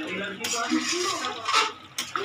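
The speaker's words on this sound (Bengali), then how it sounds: "ভালো করে নেড়ে নিই, ভালো করে নেড়ে নেবে" Chicken korma stirred in a pan, with scraping and clinking of a spoon against metal over a soft sizzle, close up and in bursts.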